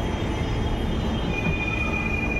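A Kolkata metro train running between Esplanade and Shyambazar, a loud steady rumble of wheels on rails heard from inside the car, with a thin high squeal creeping in toward the end.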